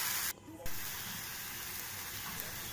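Water and milk added to a hot frying pan, giving a continuous hissing sizzle with a brief dip partway through, close and fairly loud.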